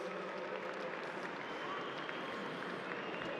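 A crowd at the WAFL 2019 grand final applauds South Fremantle and player Dylan Main, a faint, steady wash of clapping over the full few seconds.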